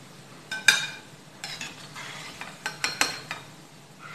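Moong dal pakodi frying in hot oil in a kadhai, a steady soft sizzle broken by several sharp scraping and clinking strokes of a ladle against the metal.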